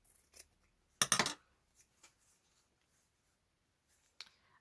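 Scissors snipping through material during a craft finishing job, one firm multi-part cut followed by a few light, faint snips and clicks in a quiet room.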